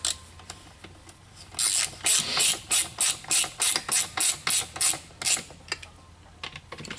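A hand ratchet clicks in a quick, evenly spaced run of about a dozen strokes while spinning bolts in on a 2007 Mini Cooper S R56 throttle body, close and crisp with a few slower clicks at the start and end.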